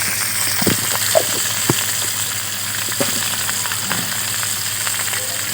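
Chickpeas cook in a pan with chili powder and turmeric, giving off a steady close sizzle and frying hiss, broken by a few sharp clicks and taps from stirring.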